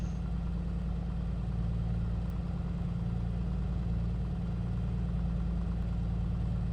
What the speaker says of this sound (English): let me turn these headphones off here, so we can enjoy the engine